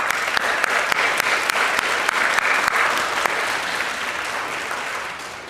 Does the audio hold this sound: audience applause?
yes